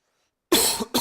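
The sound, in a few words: coughing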